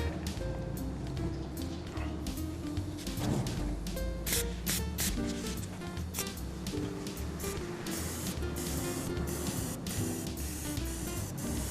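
An airbrush spraying light colour coats onto a leather hole repair, giving a close, steady hiss interrupted by short sharp bursts and clicks throughout.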